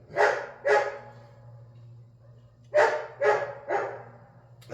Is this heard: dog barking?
yes